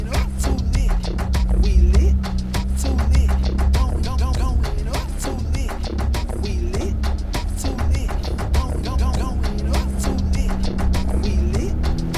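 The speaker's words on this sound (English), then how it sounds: "Vehicle 8 is climbing right now." An off-road vehicle grinding up a rocky trail on the backway to Crown King, a steady loud engine drone and rumble with constant rattling and crunching over rocks, close, with brief radio chatter.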